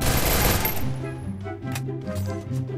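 Gunfire in the Free Fire battle-royale game: a loud burst of rapid shots at the start, then scattered lighter clicks and thuds over a low game drone.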